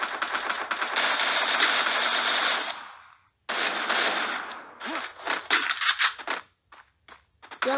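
MP40 submachine gun fire in the mobile shooter game Free Fire, a loud rapid continuous burst that cuts off, then resumes in shorter choppy bursts with gaps between them.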